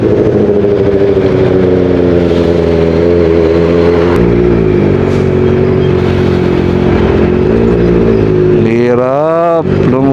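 A truck rumbles past during a Kawasaki ZX-4RR motorcycle ride in morning traffic on the way to Tagaytay, its loud, steady engine drone close by under wind noise. The motorcycle revs up sharply near the end.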